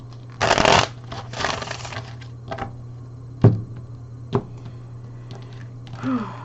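Tarot cards being shuffled by hand, with a dense riffling burst near the start, a second softer run, then a few isolated sharp taps and slaps as the deck is squared and cut, close and fairly quiet over a steady low hum.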